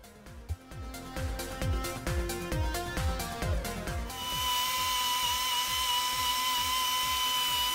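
A Central Pneumatic 3-inch air polisher/sander runs on a polishing pass with 3000 grit, starting in short pulsing bursts and then settling into a steady, loud, high-pitched whir with no talking.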